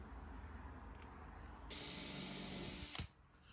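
Power drill countersinking holes in wooden shop furniture, a quiet short whirring burst of about a second and a half that cuts off abruptly, set against a low background rumble.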